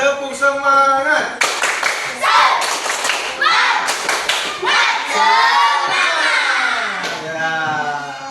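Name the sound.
class doing rhythmic 'tepuk semangat' spirit clap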